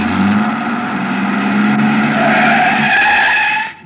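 Truck engine revving and pulling away as a radio drama effect, a loud sustained motor roar with rising pitch and a tire-skid edge that builds for nearly four seconds before cutting off abruptly.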